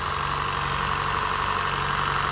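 A 2015 Honda Fit engine idles steadily and smoothly from a cold start after a 90,000-mile service, at close range, an even, continuous hum with a faint rhythmic pulse and no revving or other sounds.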